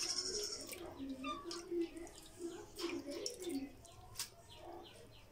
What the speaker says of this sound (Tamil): இப்போ இதுக்கு தேவையான அளவு தண்ணி சேர்த்துக்கணும்